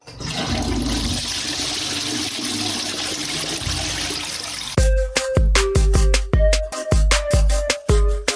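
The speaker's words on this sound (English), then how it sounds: "I thought you were getting the flush sound. I could do the flush too." A toilet flush sounds loud and close, with several seconds of rushing, gurgling water. It then gives way to a rapid series of sharp, tonal electronic hits.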